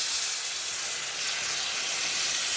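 Water poured into a pan of frying prawns and spices gives a loud, steady sizzling hiss that holds evenly for the whole stretch, with no voices over it.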